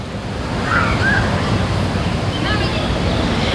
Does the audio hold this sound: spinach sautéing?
no